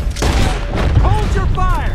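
Rapid gunfire crackles through a chaotic Red Dead Redemption 2 battle, with shouting voices layered over the shots.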